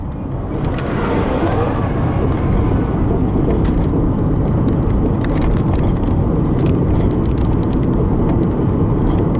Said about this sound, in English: here comes another 6 coming the other way